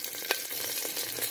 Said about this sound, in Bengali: 5 ফোড়ন আর কাঁচা লঙ্কা ফোড়ন দিলাম